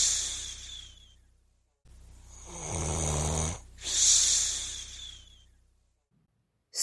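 A reader's voice imitates a bear snoring: one long rasping snore in, a drawn-out snort-like breath out, then a quieter trailing breath, close and alone.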